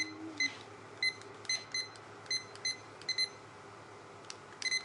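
A kitchen timer being set while potatoes cook gives short, sharp electronic beeps in irregular single and double taps, quiet against a low background hum.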